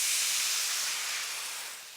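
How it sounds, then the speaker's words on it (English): White wine poured into a hot pan of toasted risotto rice for a roasted tomato risotto hisses loudly as it boils off, a steady, close, bright sizzle that eases slightly toward the end. "Once that's toasted off, in with some white wine."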